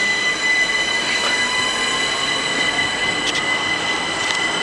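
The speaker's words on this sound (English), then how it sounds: "So pulling away there is going to be 377 something or other" A Class 377 electric train pulls away from Redhill station on a steady, loud run, with a continuous motor whine, a faint tonal squeal and a few brief clicks of the wheels. No voices are heard.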